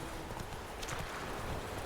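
A horse in The Witcher 3 gallops with a quick, steady clatter of hooves, close and fairly loud, over a broad outdoor hiss with no voices.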